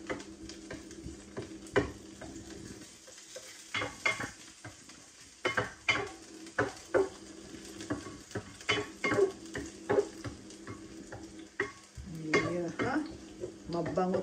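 Garlic sizzles in a hot Salad Master pan, a steady frying hiss broken by repeated clinking stirs and scrapes of a utensil against the pan, with a brief quiet stretch partway through.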